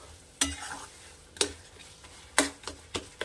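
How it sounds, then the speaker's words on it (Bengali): Sweet coconut filling for Gokul pitha is stirred nonstop in a pan over a high gas flame: sharp spatula scrapes and knocks land at uneven intervals over a faint background sizzle. "এবারে আমি গ্যাসের ফ্লেমটাকে বাড়িয়ে ক্রমাগত নাড়তে থাকবো"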